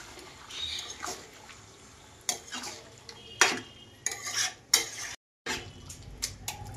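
Ground cumin and coriander paste, four spoonfuls each, gently stirred in a pan with meat: intermittent scraping and clinking strokes of a spoon against metal, close and moderately loud, with short pauses between.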